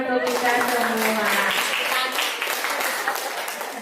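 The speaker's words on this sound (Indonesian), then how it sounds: "Tepuk tangan untuk kita semua." An audience of teachers applauds in a workshop session, a dense, steady patter of clapping that fills the room and slowly thins out, with a voice speaking over the start.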